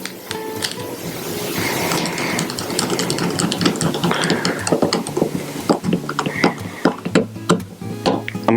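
A screwdriver tightens a hose clamp onto the barb of a foam cannon, giving close, rapid clicking and ratcheting turns that grow louder and more irregular toward the end, with no talking.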